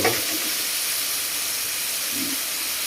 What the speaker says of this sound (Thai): ใส่มะระลงไปผัดนะครับผัดให้มะระสุกก่อน